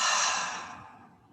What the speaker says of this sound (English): Now just take a nice deep breath in and exhale